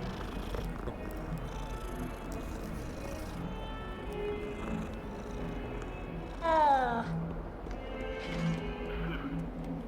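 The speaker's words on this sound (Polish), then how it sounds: "O, mamy kotka." A cat in the video game Hogwarts Legacy purrs softly amid a steady game ambience, with a brief louder rising sound around the middle and some background noise.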